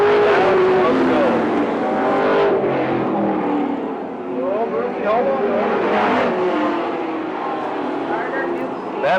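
A pack of race cars battling for the lead through a turn at a 2004 racing event, loud continuous engine roar rising and falling as cars pass, with possible commentary mixed in.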